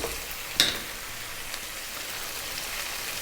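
Cold cooked day-old basmati rice fries in a pan for an Indian vegetarian dish, giving a steady close sizzle with one sharp clatter of stirring near the start, no talk.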